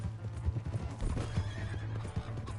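Horse hooves clip-clopping with repeated neighs and whinnies in the Red Dead Redemption 2 video game, a steady close rhythm of hoofbeats running throughout.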